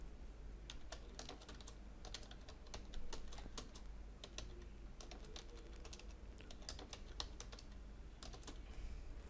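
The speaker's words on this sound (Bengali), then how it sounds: "এবারে প্রয়োজন মতো লেখা টাইপ করব।" Steady typing on a computer keyboard while filling in an office order table in Word, with clicky keystrokes in quick bursts and short pauses, close and fairly quiet, no voices.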